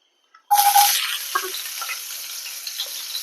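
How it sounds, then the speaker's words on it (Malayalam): Chopped garlic drops into a small amount of hot oil in a pan, setting off a sudden loud sizzle that settles into a steady, crackling fry, heard close with no talking. "ഇനി നമ്മൾ ചേർക്കാൻ പോകുന്നത് വെളുത്തുള്ളി അല്ലി അരിഞ്ഞതാണ്"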